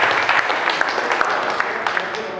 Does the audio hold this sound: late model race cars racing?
no